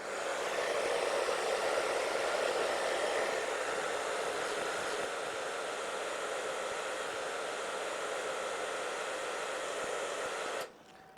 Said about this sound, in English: I've just got a regular hair dryer.